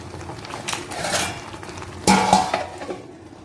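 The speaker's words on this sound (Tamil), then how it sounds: "இப்போ மூடி போட்டு ஒரு 2 நிமிஷம் அப்படியே சிம்மில் விட்டுடலாம்." A metal lid settles onto a pan of pasta manchurian with a couple of close clinks and clatters, then faint low simmering underneath, no talking.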